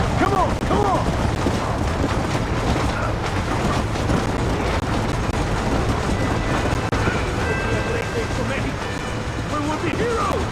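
A steam train runs steadily in the Red Dead Redemption video game, a dense continuous rumble with mechanical clatter, with voices shouting over it.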